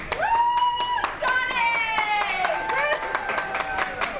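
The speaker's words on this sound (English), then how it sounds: "The crowd erupts" A crowd outside an airport concourse claps and cheers to welcome home a Purple Heart soldier returning from Afghanistan. Steady sharp claps run throughout, with rising shouts and whoops layered over them.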